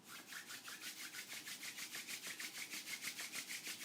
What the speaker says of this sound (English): start rubbing your palms against each other